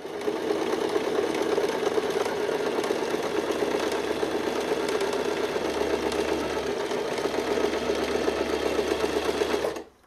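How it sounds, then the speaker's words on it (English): A sewing machine stitches a straight running stitch along a French seam, a steady close whirring and rapid needle chatter for about ten seconds before stopping abruptly. "This is then sewn in entirely the same way with a running stitch on your machine or by hand."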